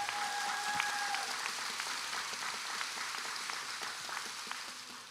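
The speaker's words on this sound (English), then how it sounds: "Let's give them a round of applause." Steady round of applause from a conference audience at a food systems gathering, dense even clapping filling the room throughout without voices.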